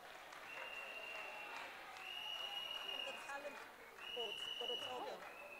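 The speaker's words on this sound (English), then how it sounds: "Can we give them a round of applause?" Audience applause at the Miss Sierra Leone pageant, a soft, continuous patter of clapping from a crowd, fairly distant, with tonal music or whistling sounds running over it.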